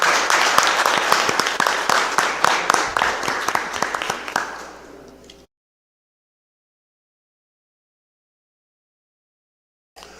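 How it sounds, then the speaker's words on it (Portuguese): An audience applauds at a city council ordinary session: a dense round of steady clapping that fades over about five seconds, then cuts to silence with a brief return at the very end. "Uma salva de palmas para vocês aí."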